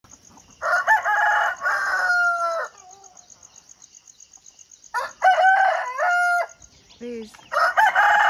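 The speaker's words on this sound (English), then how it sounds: "Morning I was woken up by hens and cocks." Roosters crow loudly in repeated long calls at dawn, with hens clucking briefly between them and a faint steady chirping behind; a single spoken word breaks in.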